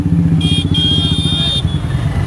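Motorcycles rumble at low pitch with throbbing engine pulses at a bike rally in Assam, steady and fairly close, while a voice talks over the noise.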